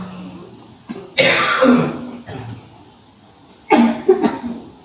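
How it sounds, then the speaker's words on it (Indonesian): Several people in a gathered audience cough and clear their throats, with a few harsh bursts rising in two clusters over a quiet room. "Batuk semua, ya."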